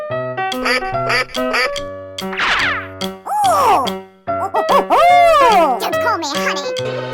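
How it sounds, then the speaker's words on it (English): Cartoonish duck quacks ring out loud and close amid bright jingly music and a child's chatter, a few rising honks repeating over the tune. "duck"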